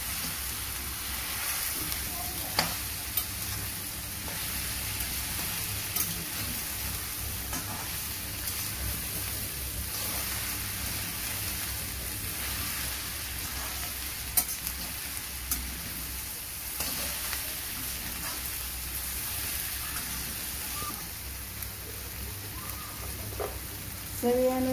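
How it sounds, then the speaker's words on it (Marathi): Okra fries in a pan with roasted tomato, producing a dense, even hiss like steady rain, broken by occasional soft clicks of stirring, loud and continuous with no speech. "आता मी भेंडी टाकते। भेंडीमध्ये ते भाजून जाणार।"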